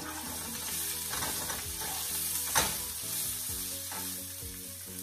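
Green chillies and salt being stirred in a hot pan for a Rajasthani tipore dish: a steady close sizzle with repeated scraping stir strokes and one sharp clink partway through.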